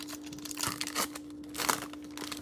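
Cellophane crinkles and tears as a cello pack of Prizm Draft Picks football trading cards is opened, a close run of crackling rustles in bursts, with a steady electrical hum underneath.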